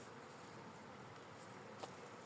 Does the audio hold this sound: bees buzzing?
yes